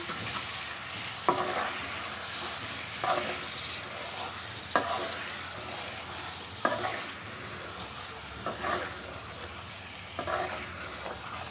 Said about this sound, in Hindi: दो मिनट तक इसको अच्छे से फ्राई कर लेते हैं